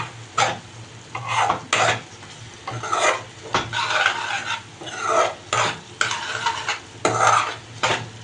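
Spice paste for fish kalia fries in a pan while a spoon stirs it in loud, rhythmic scraping strokes about once a second, over a constant sizzle, close up and with no talking.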